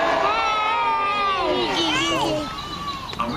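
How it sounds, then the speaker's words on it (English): An outdoor crowd of adults and children at a park event gives a loud practice cheer, a burst of overlapping shouts and whoops that swells and then fades after a couple of seconds. "Let's have a nice practice cheer."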